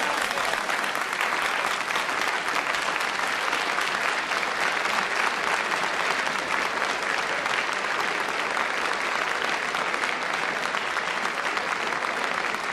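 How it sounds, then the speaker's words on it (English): Sustained, dense applause from a large Oxford Union debating audience, steady and loud for the whole stretch with no voices over it. "Applause for Mrs. Barbara Castle from this apparently overwhelmingly pro-common market Oxford Union audience"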